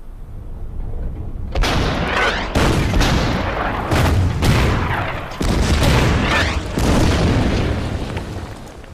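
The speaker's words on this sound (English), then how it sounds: "And then use the artillery on the tanks." Artillery barrage hitting tanks in the strategy war game Order of Battle, set in the Winter War at Suomussalmi: several deep booming blasts in quick succession, loud and heavy, each rolling into the next with a rumbling tail.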